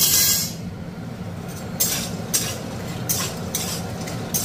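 Bori lentil dumplings fry in a pan with a soft, continuous sizzle, broken by several sharp scraping stirs of a utensil against the pan, close and fairly loud.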